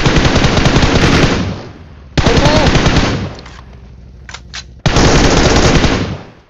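Automatic gunfire in the mobile battle-royale game BGMI comes in three loud, dense bursts of rapid shots, each lasting a second or more, with quieter game ambience and a few faint clicks between them.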